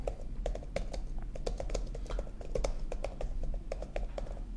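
Rapid typing on a computer keyboard, a close, uneven patter of crisp key clicks with short pauses, heard alone without talk.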